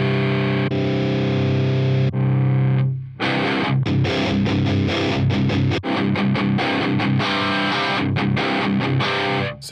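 Distorted electric guitar runs through a Line 6 Helix, holding sustained notes and then switching presets without any gap, so the tone changes seamlessly into rhythmic, chopped distorted playing.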